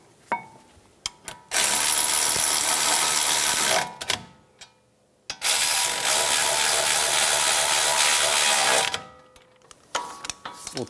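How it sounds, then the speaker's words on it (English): A ratchet drives brake caliper bracket bolts on a 2007-2014 Cadillac Escalade, two long loud spells of rapid close clicking separated by a short pause, with a few isolated clicks around them. "We'll torque those bolts to 148 foot-pounds."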